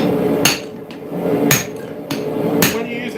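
Hammer blows ring out on a farrier's anvil while a railroad-spike axe is forged, four sharp metallic strikes spaced irregularly over a few seconds against steady workshop background noise.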